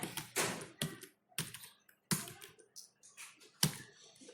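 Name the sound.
typing a name on a computer keyboard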